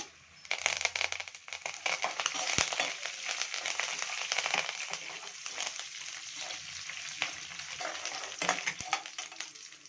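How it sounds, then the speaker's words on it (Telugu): Mustard seeds and curry leaves fry in hot oil for a tamarind pulihora, producing a loud, dense, continuous sizzle with spattering crackles and occasional sharp pops over about ten seconds, with no talking. "ఆవాలు వేసుకొని వేపుకోవాలి తరువాత కరివేపాకు వేగిన తర్వాత కరివేపాకు"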